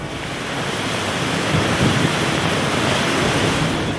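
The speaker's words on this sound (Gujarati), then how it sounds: "લીલિયા શહેર અને આસપાસના ગ્રામ્ય વિસ્તારમાં ધોધમાર વરસાદ વરસતા શહેરમાંથી પસાર થતી નાવલી નદી બે કાંઠે વહેતી થઈ છે" Heavy rain and the overflowing Navli river in Liliya, a loud continuous broadband rush of water and downpour with no voices.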